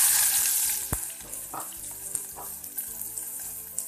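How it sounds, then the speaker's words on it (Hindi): Amla and cumin seeds frying in hot oil in a pan, a steady close sizzle with brief stirring scrapes and small pops and crackles throughout, with no talking. "ऑयल गर्म हो चुका है अब हम इसमें आधा टीस्पून जीरा डालेंगे अब मैं इस इसमें जो हमने आंवले लिए थे वो हम इसमें ऐड कर देंगे"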